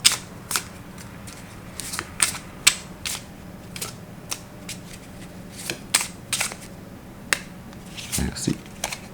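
Oracle cards being shuffled by hand for a card reading, giving a string of crisp, close riffling snaps and taps spread unevenly through the stretch, with no talk over them.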